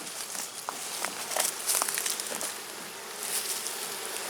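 Honeybees from a queenless hive being merged buzz around an open hive, a steady nearby insect drone with a few louder passes close by and no talking.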